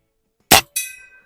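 A single crack from a Prospect rifle, followed at once by a bright metallic ping from a steel target downrange, the ring decaying over a fraction of a second in otherwise quiet air.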